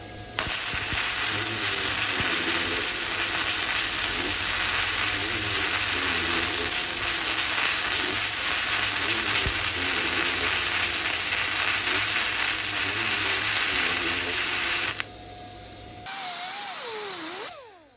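An Arccaptain MIG 145P welder lays a bead with a loud, continuous crackling buzz that holds steady for about fifteen seconds. It cuts out briefly, then a shorter burst follows before stopping.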